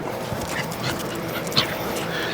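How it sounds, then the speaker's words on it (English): A dog out on a walk gives soft whimpers and small yips outdoors, brief excited vocal bursts over quiet background noise. "But first, a walk with the dog."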